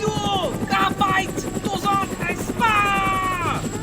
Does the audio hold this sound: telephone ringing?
no